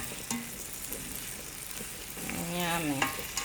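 A spoon stirs yam and squash porridge with palm oil, pepper and onion in a pot, a soft steady scraping over a low sizzle, close by with no talking.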